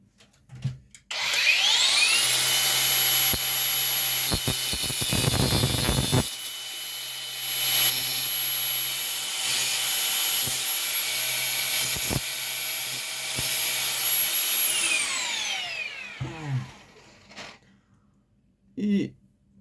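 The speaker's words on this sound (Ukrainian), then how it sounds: "Цю частину головку обрізаємо болгаркою" An angle grinder whines at a high, steady pitch for over ten seconds as it cuts off part of a joint on a toy figure's leg, spinning up at the start and winding down at the end, with some clatter.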